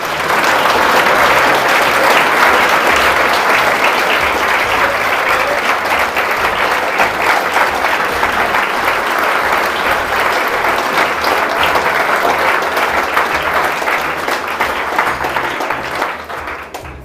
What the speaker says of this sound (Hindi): सब लोग ताली बजाएंगे, खड़े हो जाएंगे